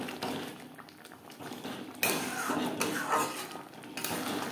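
Tomato chutney being stirred with mango leather and cashews, a utensil scraping and clinking against the pot in a steady run of close knocks and scrapes, with a faint bubbling simmer underneath.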